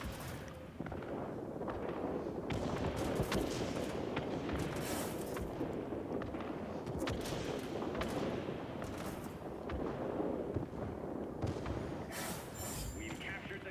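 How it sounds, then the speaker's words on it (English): A B-17G bomber in a video game, its bomb load exploding as a sustained rumbling barrage of booms and crackling blasts under a constant engine drone, with a voice talking over it. "Dropping second bomb load."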